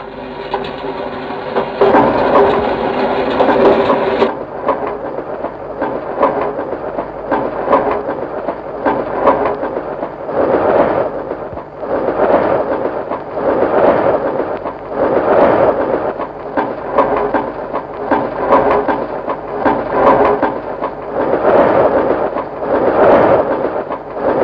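A musique concrète study by Pierre Schaeffer built from railway sounds, a continuous loud rumbling train texture with rhythmic chugging pulses repeating steadily throughout and a brighter hissing layer at the start.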